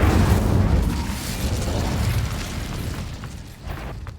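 An Incendio fire spell from Hogwarts Legacy on Xbox Series X erupts in a loud, close boom that rumbles and fades into a crackling burst over a few seconds.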